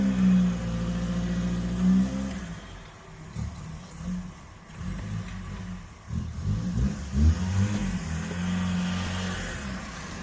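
A Ford Fiesta MK1 being moved in a workshop, its engine idling steadily, then a low, uneven rumble as it shifts, with no talking.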